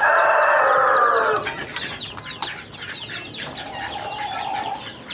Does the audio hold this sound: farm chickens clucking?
yes